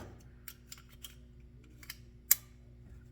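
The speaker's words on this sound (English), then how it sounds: "But all the others click and lock in." Faint small clicks from a Beretta 21A Bobcat .22 LR pistol as a magazine is pushed in and locks, a few light ticks followed by one sharper snap, close and quiet with no talking.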